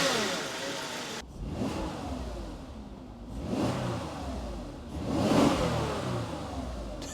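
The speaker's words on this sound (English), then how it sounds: "now that the engine's up to temp, we'll give it a few revs" A Volkswagen Phaeton with a W12 engine, warmed up, is revved three times in a row, each rise swelling loudly then falling back toward a steady idle between blips.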